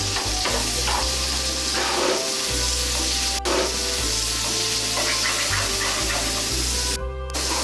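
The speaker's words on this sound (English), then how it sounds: "I'm gonna add in the onion." Onion sizzles loudly and steadily in a hot pan for a lemon coriander fish dish, a close, continuous frying hiss with faint stirring clatter and no voice.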